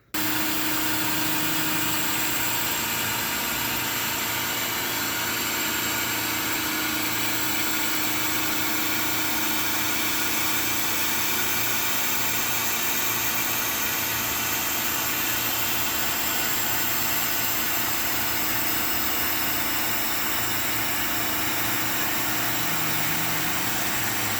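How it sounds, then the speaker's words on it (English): A laser cutter runs with a steady, continuous mechanical drone and fan hiss, unchanging and fairly loud throughout, with no voices. "So let's start designing and then take it over to the laser cutter."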